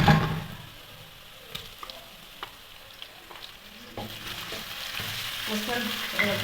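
Garlic frying in a pan of browned onions for dal, a steady close sizzle with occasional stirring clicks and scrapes, swelling louder toward the end, with no talk.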